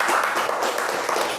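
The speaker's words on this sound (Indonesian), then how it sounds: "Tepuk tangan untuk kelompok 3." A classroom group applauds a student group after its presentation, giving a short burst of steady, dense clapping from many hands, close and fairly loud.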